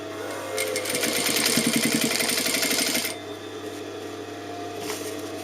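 Sewing machine running in a fast rhythmic stitching burst for about two and a half seconds while hemming an open dress, then stopping, with quiet room tone and a small clack afterward.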